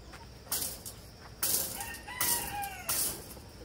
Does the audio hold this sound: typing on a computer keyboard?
no